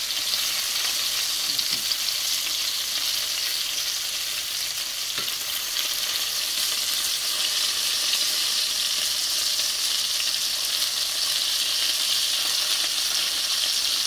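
Meatballs fry in a pan on the stove with a steady, even sizzle that holds constant throughout, close and moderately loud, with no talking.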